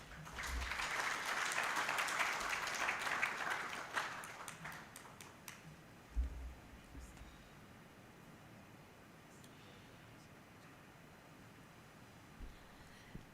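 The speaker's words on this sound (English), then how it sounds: "another round of applause to the Honorable Dr. Charles Ayume" An audience applauds after closing remarks at a launch event in Uganda, a loud sustained burst of clapping for about four seconds that fades into quiet room tone with a few stray thumps.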